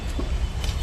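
A car passes along a road at night, its engine and tyre rumble steady and fairly close for a brief moment, with no voices over it.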